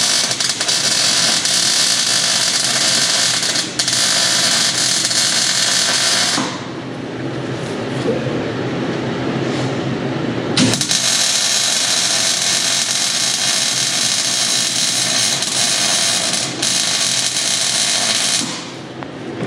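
Loud, continuous crackling buzz of a welder tacking steel trailer hitch plates, running in two long bursts separated by a brief pause with shop noise in between; no talking.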